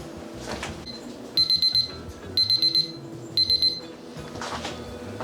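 A kitchen timer alarm going off in a home kitchen, sounding three bursts of rapid, shrill electronic beeps spaced about a second apart, loud and close over quiet background noise.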